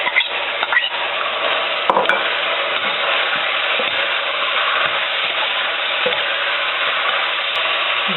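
Ground meat and onion frying in a pan, a dense, even sizzle that holds steady and close throughout with a few soft stirring scrapes and no talking.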